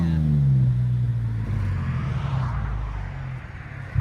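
A 2015 Mercedes E350 AMG with a 3.5L V6 and resonator and muffler delete drones with a deep, loud exhaust note heard from outside the car, easing off slightly before a brief blip at the end.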